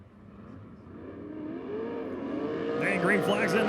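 ASCS sprint cars at Arizona Speedway roar off the start of a desert heat race, engines building from a low rumble to a loud, rising howl, with commentary talking over them throughout.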